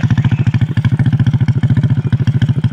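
A four-valve motorcycle engine runs close by with a loud, rapid, even thumping pulse, rough and clattery at a steady idle-like speed, with no voices over it.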